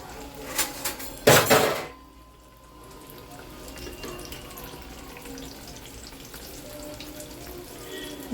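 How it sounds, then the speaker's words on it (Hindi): Mathri dough frying in oil over a low flame, a soft steady sizzle running throughout, preceded by a burst of clattering utensils and running water at the start; no talking. "चलिए इसको हम धीमी धीमी आंच पे करते हैं फ्राई।"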